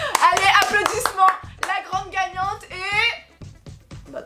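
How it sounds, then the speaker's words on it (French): A small group of people claps by hand at home, a few quick, uneven claps at the start and scattered taps near the end, close and clear, mixed with lively voices talking and calling out over them. "Allez, applaudissements."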